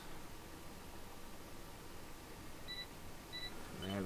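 Farm machinery in Farming Simulator 17 gives two short, high-pitched electronic beeps about half a second apart while working the headland of a field, faint against a steady hiss of background noise.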